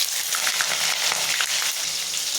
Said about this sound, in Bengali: পেঁয়াজটা এখন খুব ভালো করে ভেজে নেব।